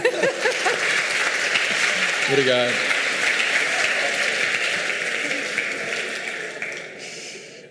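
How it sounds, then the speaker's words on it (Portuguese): An audience at a church gathering breaks into loud, sustained applause, the clapping steady and close before fading toward the end, while a voice briefly speaks over it near the start. "Eu não sei o que vocês estão aplaudindo"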